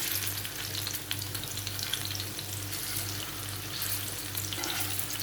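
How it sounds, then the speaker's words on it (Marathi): Chicken masala pieces frying in a pan give a steady, close sizzle with constant crackling and a low continuous hum underneath, no voices. "अशाच बाजूने सगळे परतून घेऊया आणि अशाच पद्धतीने आपण दुसरी साईड पण व्यवस्थित फ्राय करून घेऊया"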